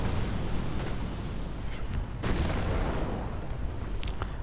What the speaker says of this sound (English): Grenades going off, killing a lot.